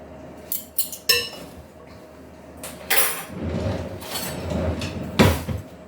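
A cooked pork knuckle, simmered in beer, is lifted into an ovenproof dish in a home kitchen, with scattered clinks, knocks and scrapes of cookware and a louder clatter near the end.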